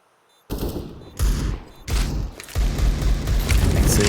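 Rapid pistol gunfire in a CS:GO match on the Nuke map, sharp shot bursts after a brief silence, then dense overlapping volleys and booms continuing loudly to the end.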